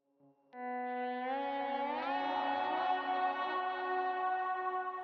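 An electric guitar slides up into a sustained, reverb-drenched chord from Jesus We Love You, ringing with echo and a slight distorted shimmer.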